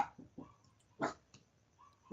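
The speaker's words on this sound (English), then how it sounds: "Shut that Taco Bell dog up" A dog barks in short, sharp bursts, several loud yaps spaced irregularly over a couple of seconds, close by and with no talking.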